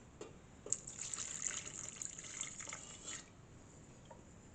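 Warm milk is poured into a pastry mixture, making a soft, close trickling splash for a few seconds before fading to quiet.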